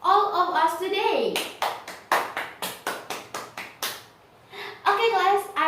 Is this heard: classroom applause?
yes